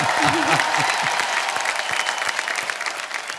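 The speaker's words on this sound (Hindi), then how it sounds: "एक बार जोरदार तालियां" Studio audience applause on a Hindi TV family comedy show, a loud sustained wash of many hands clapping, with a brief voice at the start before the clapping carries on alone.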